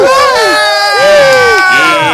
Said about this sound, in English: The whole crew cheer and applaud.